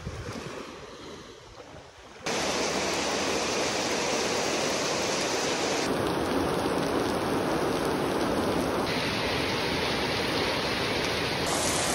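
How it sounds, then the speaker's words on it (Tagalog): Rain falls outdoors, arriving abruptly after a quieter two seconds and then holding as a loud, dense, steady wash of noise for the rest of the stretch. "Hala nagtaligsik na pud."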